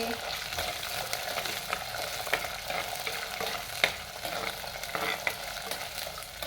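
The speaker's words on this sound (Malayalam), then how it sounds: "ചെറിയ ഉള്ളി വെളുത്തുള്ളി ഇഞ്ചി എല്ലാം കൂടി ചേർത്ത് നല്ലപോലെ വഴച്ചെടുക്കാം" Shallots, garlic and ginger frying in a pan for a tuna fish curry, a continuous close sizzle broken by frequent scraping strokes of a spoon as they are stirred, with no voices.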